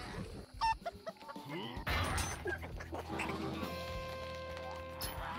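Chicken clucking and squawking in the video game Darksburg, several short excited calls over game sounds, with people talking over it.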